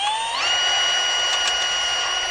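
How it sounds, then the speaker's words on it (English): Drill widening a hole in metal while fitting electronic ignition toolbox parts on a Puch 250 SG motorcycle, a steady high whine that rises in pitch as the drill spins up, then holds constant and loud. "So hopefully I can just widen it up with my regular tool here, drill here."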